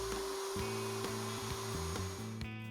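Router on a router table cutting a wood board through a box joint jig, a steady high whine with the tone dipping and recovering in repeated pulses as the board moves in and out of the cut.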